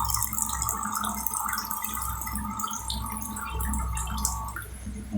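Hot water being poured while cooking rava upma, a steady trickling, splashing stream that runs continuously for a few seconds and changes tone near the end.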